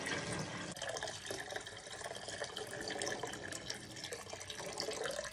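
Water pours steadily into a container, a continuous splashing rush at low volume with no voices.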